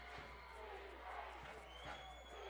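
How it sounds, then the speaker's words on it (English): A football stadium crowd at a college game between California (PA) and Kutztown chants defense, a steady distant roar of many voices with rhythmic swells, heard faintly throughout. "Crowd chanting defense."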